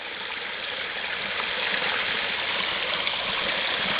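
Water let out from a hose or outlet, flowing in a constant broadband rush that holds steady and swells slightly, loud and close with no talk.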